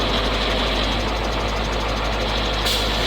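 Engine of a truck-mounted crane, recently revived after being submerged, runs at a steady idle, a loud continuous low rumble with mechanical knocking texture throughout, close by and alone without talk.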